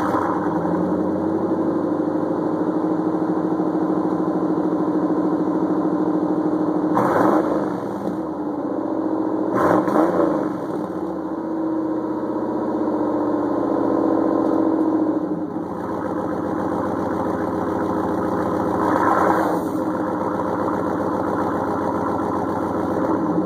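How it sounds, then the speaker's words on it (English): A GMC truck engine idles after a cold start with the exhaust close to the microphone, a loud, steady drone broken by a few brief revs and dips, with no talking. "here comes an exhaust shot."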